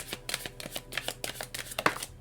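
Tarot cards are shuffled and drawn by hand: a quick run of soft riffling flicks and slaps, close and fairly faint, with no talk.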